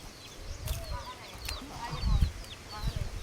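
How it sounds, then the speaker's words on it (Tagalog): Several chickens cluck and call on a farm in Guinayangan, Quezon, short irregular squawks and clucks at close range, with a little human talk in the background. "Ang daming manok."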